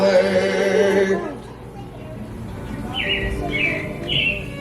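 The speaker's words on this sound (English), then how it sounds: "It looks like the Robins are getting ready to celebrate Valentine's Day today." Recorded robins chirp at a Disney ride, three bright rising tweets near the end, following a stretch of music and voices that fades out.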